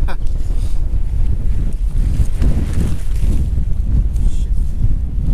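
Strong wind buffets a microphone outdoors while a Marmot Haldor two-person four-season tent is being pitched, a loud, steady roaring rumble that fills the whole stretch.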